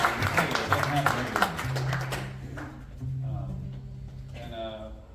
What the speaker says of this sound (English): would you give yourselves a round of applause?